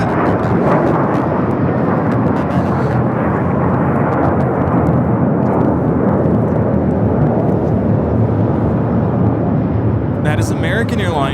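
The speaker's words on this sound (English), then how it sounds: "That is American Airlines 1167 taking off to Dallas, Fort Worth on the A321" An American Airlines Airbus A321 takes off at Los Angeles International, a loud continuous thundering jet roar that fills the whole stretch, with a brief crackle near the end.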